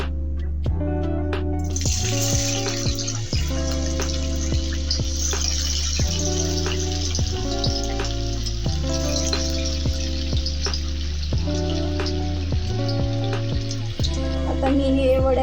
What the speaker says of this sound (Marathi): तेल गरम करून घेतलेलं आहे आता मी वडे सोडते